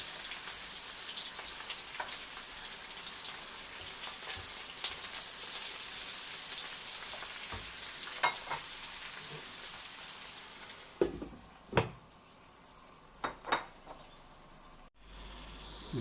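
Onion and garlic fry in a pan for Catalan-style broad beans with a steady soft crackling sizzle. Near the end a few louder knocks and scrapes of stirring break through.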